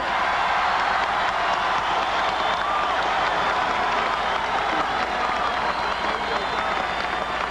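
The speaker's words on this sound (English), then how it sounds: "And of course, the crowd went wild." A large crowd at a parade for basketball player Julius Erving applauds and cheers in a dense, steady roar of clapping that holds loud and unbroken for several seconds, heard from within the crowd.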